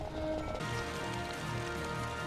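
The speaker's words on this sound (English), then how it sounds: "it's still raining" Steady rain falls in the Final Fantasy XII game world, a soft continuous patter of drops on the ground with faint scattered splashes, low and even throughout with no voices.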